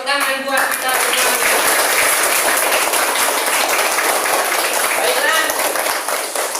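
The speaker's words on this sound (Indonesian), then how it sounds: "Oke, tepuk tangan buat kita semua." Classroom of students clapping hands together, loud continuous applause filling several seconds, briefly overlapped by voices at the start and end.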